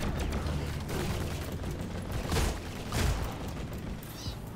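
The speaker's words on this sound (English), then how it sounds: "That turret sounds like a laser gun." A laser turret fires in the video game Deep Rock Galactic, with rapid bursts of zapping shots and a couple of louder blasts over a constant background rumble and no speech.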